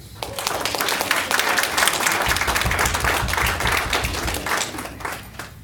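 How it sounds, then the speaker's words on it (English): Staff audience at a general managers' meeting giving a round of applause, a loud, full burst of many hands clapping at once that continues steadily before tapering slightly. "So I think we should all give him a round of applause."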